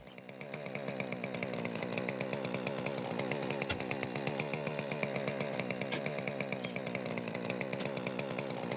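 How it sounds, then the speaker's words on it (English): A chainsaw cuts through rock while digging for fossils in the video game Dinosaur Fossil Hunter, a continuous buzzing drone with a rapid, regular chattering pulse, steady and moderately loud throughout. "I think I broke the chainsaw."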